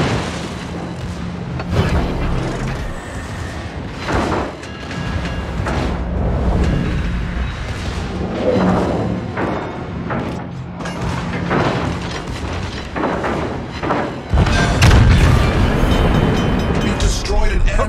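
Heavy booming explosions roll through a naval battle as an enemy battleship is destroyed, deep rumbling blasts recurring amid constant low engine drone, with a bigger burst near the end.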